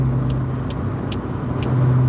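Steady engine of a 1981 Ford Mustang cruising on the road, a constant low hum with faint periodic ticks, close and even, with no talking.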